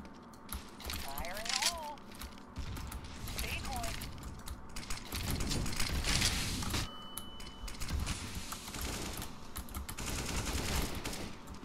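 Rapid bursts of automatic rifle fire spray in CS:GO, with repeated rattling volleys and weapon handling clicks, loud and close under intermittent talk.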